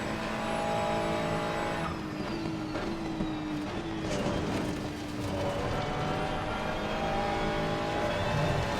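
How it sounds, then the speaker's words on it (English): A Ferrari 296 GT3 race car in Assetto Corsa Competizione, driven at Watkins Glen, revs hard through rising and falling gear changes. Engine tones sweep up and shift repeatedly, with brief tire squeal in a continuous, moderately loud run. "Oh, man, that Ferrari sounds good and powerful."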